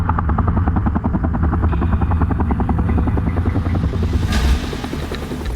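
A rescue helicopter thunders close by during a winch rescue, its rotor thumping in a fast, steady rhythm with a loud engine whine throughout.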